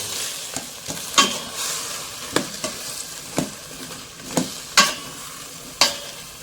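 Chicken tinola with papaya gets stirred in a pot, with sharp, spaced scrapes and knocks of a ladle against the pot over a low bubbling simmer, close by and without speech.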